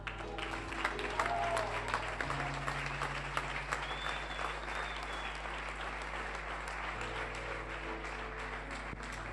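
Applause from a church congregation during a sermon, dense and continuous clapping that holds steady throughout, with a low hum underneath.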